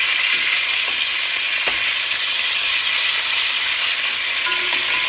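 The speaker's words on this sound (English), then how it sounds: "There's so much flavor in browning meat properly." Beef short ribs brown in a hot pan with a steady, close, crackling sizzle of fat and meat that stays even throughout, with a few faint clinks.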